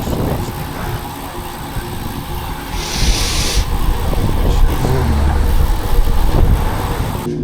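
Busy road traffic with cars and a bus roars past in a continuous dense wash of engine and tyre noise, close and loud, with a brief hiss midway and no clear talk.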